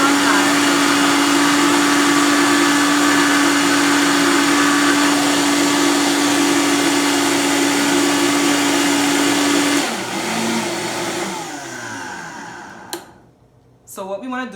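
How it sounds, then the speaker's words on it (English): A blender grinds thick vegan pumpkin cheesecake filling with a loud, steady whir for about ten seconds, then the motor slows and changes pitch before cutting out, with a couple of sharp clunks near the end. "as we're trying to blend, you'll see that it's going to take a little while for all the ingredients to be incorporated together because the filling is thick"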